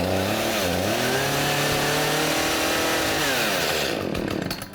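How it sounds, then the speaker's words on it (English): A flooded chainsaw engine revs loud and close with a steady buzzing roar that rises and falls, then cuts off abruptly near the end, with no voices. "now I'll pull the rope over, probably several times until the engine fires"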